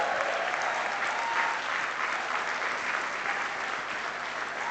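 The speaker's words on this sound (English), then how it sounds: "Round of applause." Applause from a conference audience at an event on the ASEAN training supply ecosystem, a steady, evenly dense wash of clapping that continues unbroken and eases slightly at the close.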